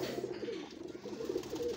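Pigeons offered for sale in Lahore coo in soft, low, repeated phrases close by, without speech.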